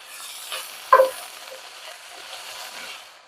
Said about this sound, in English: So we're going to saute those.